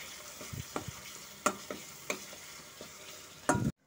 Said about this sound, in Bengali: এখন সমস্ত কিছুর সাথে তেলের সাথে ভালো মতো করে কষে নেব।